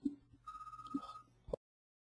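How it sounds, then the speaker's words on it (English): A cell phone left unsilenced rings indoors with a short electronic tone, a steady sustained beep set between a few brief clicks and blips, cutting off abruptly into silence. "forgot to silence my phone"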